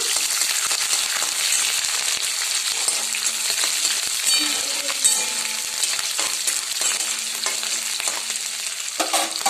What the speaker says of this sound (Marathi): आता त्यामध्ये टाकूया हिरवी मिरची ती थोडी परतून घेऊया